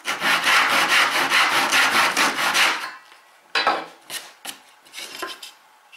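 A hand saw rasps steadily back and forth through wood in quick rhythmic strokes, loud and close, then stops, followed by a few scattered knocks and scrapes.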